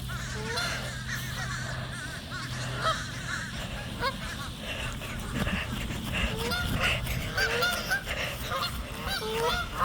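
A large flock of Canada geese honks continuously over a lake, with many overlapping calls, some near and some farther off, under steady outdoor background noise.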